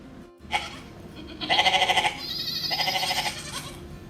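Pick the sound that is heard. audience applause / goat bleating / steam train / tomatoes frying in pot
goat bleating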